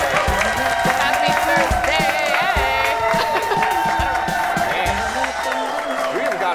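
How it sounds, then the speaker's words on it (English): Lively studio audience on a Thursday talk show cheering, whooping and clapping loudly and continuously, with hosts' voices and excited shouts mixed into the dense crowd noise close by. "I can barely hear you over this crowd."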